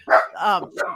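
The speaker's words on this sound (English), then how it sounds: "I'm so sorry about the dog." A dog barks inside a 1920s Hollywood Hills bungalow, two or three close, loud yapping barks in quick succession within a second.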